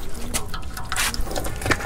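Water drains and trickles out of a drum of cow-dung compost, a short, soft, close liquid dribble with faint drips.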